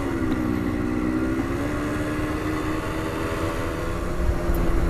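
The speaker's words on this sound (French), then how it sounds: "Bon là on fait marcher le frein moteur là." A 125cc Honda CBF motorcycle engine brakes on a long downhill road, its steady droning hum holding close and loud throughout with a slight rise near the end, and no voices.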